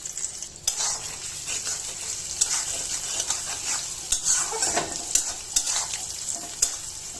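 Onions frying in hot oil while being stirred around a pan, a continuous close sizzle with scraping and stirring strokes and a few sharp clinks toward the end.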